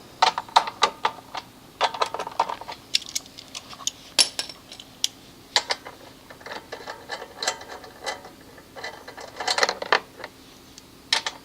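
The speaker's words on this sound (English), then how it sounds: "remove the 3 screws that hold the recoil start system" A 10mm socket ratchet backs out the three screws holding the recoil starter on a Honda HRX217 lawn mower, producing close, irregular bursts of sharp metallic ratcheting clicks and rattles with short pauses.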